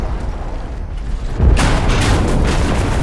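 A grenade explosion in the World War II shooter Enlisted, with a deep booming burst partway through that rises out of a rumbling battlefield backdrop and then rolls on, loud and close.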